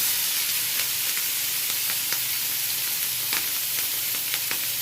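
Canned mushrooms sizzle steadily in hot oil, a dense continuous hiss broken by scattered sharp pops and crackles, close up.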